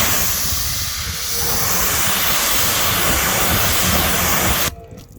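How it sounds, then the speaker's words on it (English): Pressure washer spraying water onto a car while rinsing off bug remover, a loud steady hissing rush that holds for about four and a half seconds, then cuts off abruptly. "Rinse with your hose, or in my case, pressure washer."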